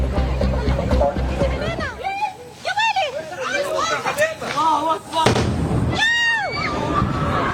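Booming explosion bursts at a US military base and crackling pops mix with loud, overlapping shouting and excited voices in a noisy outdoor scene.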